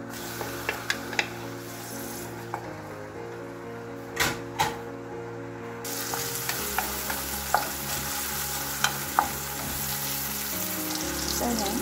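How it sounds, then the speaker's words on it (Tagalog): Tomatoes sautéing in a little cooking oil in a pan, a steady close sizzle with occasional utensil stirring clicks and scrapes, brief water running partway through. "Maglagay po tayo ng kaunting mantika lang. So, igisa po natin ito."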